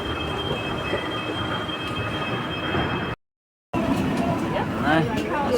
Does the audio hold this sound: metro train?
yes